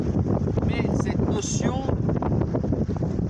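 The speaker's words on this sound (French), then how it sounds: "il y a du vent." Gusty outdoor wind buffets the microphone with a constant low rumble and roar, while someone speaks loudly over it throughout.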